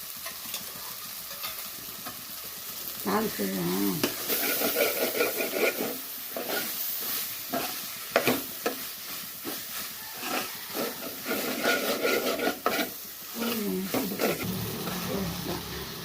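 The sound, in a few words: ginger garlic paste frying in pan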